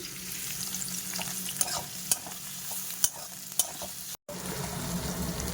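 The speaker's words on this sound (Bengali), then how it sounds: "ওই তেলের মধ্যে পেঁয়াজটা দিয়ে দিয়েছি" Onions frying in oil sizzle steadily under a spoon, with several sharp scraping clicks of stirring against the pan and a brief cut to silence near the end.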